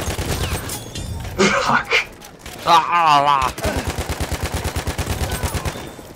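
Gunfire in Battlefield 1, with a Madsen LMG in use: a rapid, steady burst of automatic shots in the second half. It follows loud bursts and shouted game voice lines, and a man swears over it.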